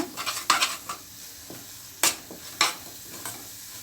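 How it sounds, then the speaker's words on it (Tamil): Chana masala sautéing in a pan: a soft sizzle broken by several sharp scraping and clinking stirs at an irregular pace. "இப்போ நம்ம நல்லா வதக்கிக்கிறலாம்."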